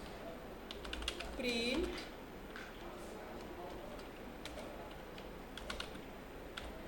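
Keys clatter on a computer keyboard as a line of Python code is typed, a loose run of clicks with one louder burst near the start, under steady talk from a nearby voice.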